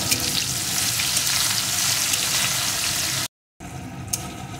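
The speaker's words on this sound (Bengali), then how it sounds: "পেঁয়াজ কুচিটাকে একটু ভেজে নেব।" Chopped onion frying in a pan for a thin tangra fish, potato and eggplant curry, a loud, steady close sizzle that cuts out briefly before resuming.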